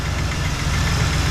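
A Small Block Chevy V8 with a freshly broken-in cam in a 1972 Nova runs steadily near 2,200–2,800 RPM, a dense close rumble carrying a fine ticking valve train clatter.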